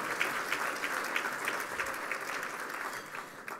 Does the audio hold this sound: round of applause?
yes